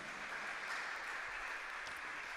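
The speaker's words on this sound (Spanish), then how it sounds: "¿Cuántos le dan fuerte el aplauso al Señor?" A church congregation applauds during a Spanish-language sermon: a faint, steady wash of many hands clapping together, heard from a distance with no voices on top.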